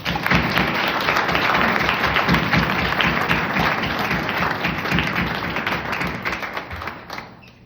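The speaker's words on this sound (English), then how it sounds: "Please give them a round of applause." Audience at a SCORE awards keynote event breaks into sustained, dense clapping that carries on steadily before tapering off at the end.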